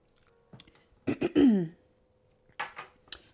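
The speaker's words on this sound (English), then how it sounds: "I'm trying to clear my throat" Someone clears their throat several times in short, rough bursts, close by, with brief pauses in between.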